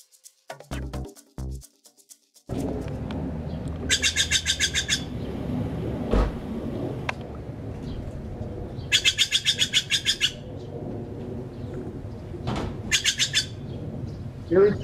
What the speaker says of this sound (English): This is their harsh warning call or scolding call.